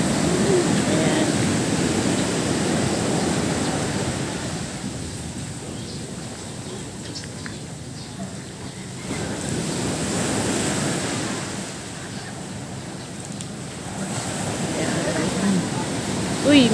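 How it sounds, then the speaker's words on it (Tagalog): Ocean surf rolling onto a beach in Real, Quezon Province, a steady broadband wash of breaking waves with wind noise, swelling and easing over time, with faint voices now and then. "Ayan, naririnig niyo yung waves."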